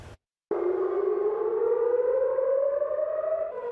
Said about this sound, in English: Sirens, likely warning of revenge